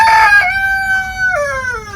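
Backyard chickens, with a rooster crowing loud and close in a long drawn-out call that dips and bends in pitch, the other birds quiet and no one talking.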